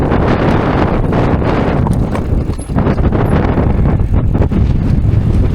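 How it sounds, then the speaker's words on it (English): Strong, gusty wind on a mountain bike trail in Wales buffets the microphone with a loud, continuous roar and rumble, with no voices. "It's so windy."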